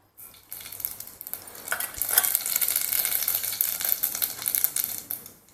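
Half a spoon of mustard seeds hit hot oil in a pan while a masala brinjal gravy is being made, rising from near quiet into a steady crackling, popping sizzle with a brief clink of a spoon.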